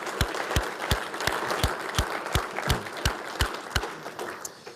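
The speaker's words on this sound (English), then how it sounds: "for now, we'll thank them with our applause" Sharp, separate handclaps ring out at a steady pace from a thinning audience at an agricultural society conference, with a general crowd murmur underneath.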